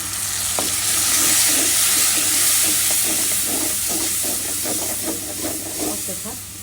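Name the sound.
water added to frying spices, sizzling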